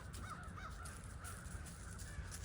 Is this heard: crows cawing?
yes